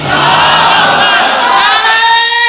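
A large crowd at a religious speech gathering chants the takbir slogan together in one loud, sustained unison roar of many voices that fades slightly at the end.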